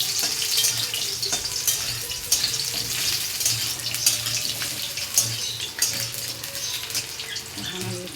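Eggplant fries in a pan with a continuous bright sizzle and crackle, some watery hiss and occasional stirring knocks underneath; no one speaks.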